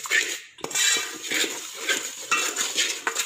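Thick spice paste for crispy fried chicken being mixed by hand in a bowl, with repeated scraping and clinking of a spoon against the dish, close and steady, no talking.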